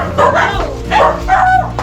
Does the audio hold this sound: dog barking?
yes